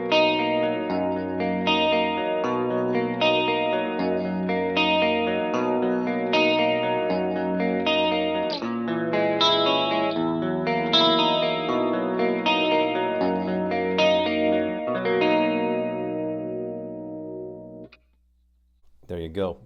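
Distorted electric guitar riff played through Line 6 Helix impulse responses, steady and loud with chords and sustained notes for about seventeen seconds, then a brief pause and a couple of faint picks at the end.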